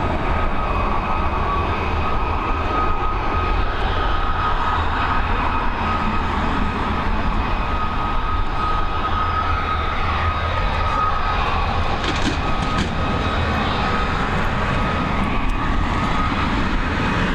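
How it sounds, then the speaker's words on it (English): A Boeing 787-9 airliner lands at Dublin Airport under a broad, steady roar of jet engines. The noise stays loud and continuous throughout, with a brief swell of extra rushing near the end. "There's going to be that 787-9 series next up on the North"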